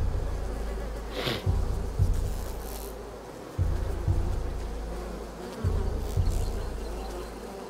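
Bees buzz loudly and steadily in A Plague Tale: Requiem, with the drone swelling and dipping in pulses as the swarm moves nearby, and no talking.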